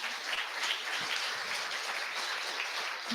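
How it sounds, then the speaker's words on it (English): Sustained applause from a crowd, even and continuous throughout. "Just a big round of applause again for David and Becky."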